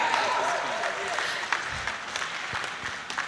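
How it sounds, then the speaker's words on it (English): A conference audience at the SAYPHIN 2025 Garden City event applauds for a keynote speaker, a steady wash of clapping that tapers off while a voice talks over it. "put your hands together for our keynote speaker"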